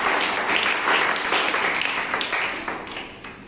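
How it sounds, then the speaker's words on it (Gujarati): A classroom of children applauds two classmates after they role-play the Sun and the Earth in a solar-system lesson, a lively burst of many small hands clapping that fades slightly toward the end. "બંને માટે તાળીઓ"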